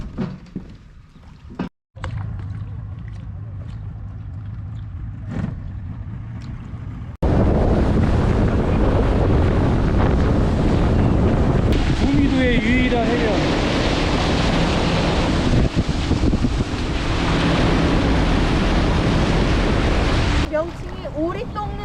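Boat ride on open sea during an island tour off Dumido, South Korea, with a loud, steady rush of wind and water noise battering the microphone for most of the clip after a quieter start with voices.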